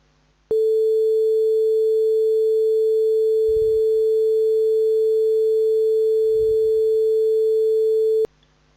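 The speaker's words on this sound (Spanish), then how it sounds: "Primero vamos a escuchar la senoidal." A steady pure sine tone of constant pitch starts abruptly, holds evenly and loud for about eight seconds, then cuts off, with two brief low thumps partway through.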